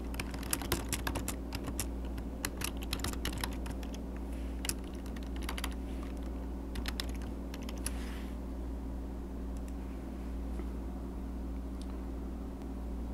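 Keys clatter on a computer keyboard as a comment is typed, quick irregular bursts of taps over a steady low hum, heaviest in the first several seconds and then sparser.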